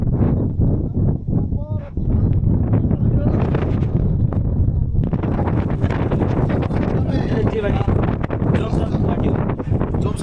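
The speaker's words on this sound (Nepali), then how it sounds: "हावा राम्रो चलिरहेछ" Strong wind buffets the microphone at a trail junction near Kagbeni in Upper Mustang. The roar is loud and continuous, surging harder for the second half.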